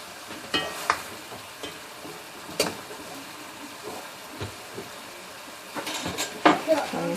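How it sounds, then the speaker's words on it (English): Tomato paste and marinade cooking in a pot for Dominican stewed chicken, with a spoon scraping and clinking against the pot amid a soft, steady sizzle, close and irregular across several seconds. "See, I stirred in the 2 tablespoons of tomato paste"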